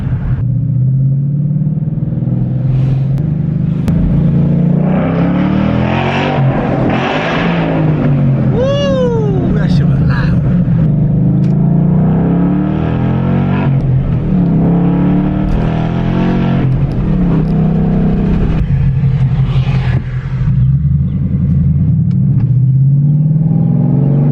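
A loud Ford Mustang GT exhaust rumbles continuously while driving through a neighborhood, with rising and falling engine pitch and a brief high whine in the middle.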